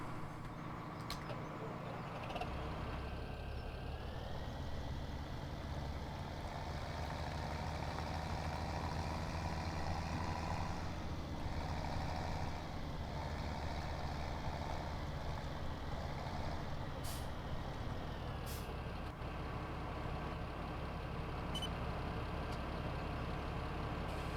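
A tractor engine in Farming Simulator 17 runs steadily and continuously, a low droning rumble with a slight pitch shift partway through, close and fairly loud, with no talking over it.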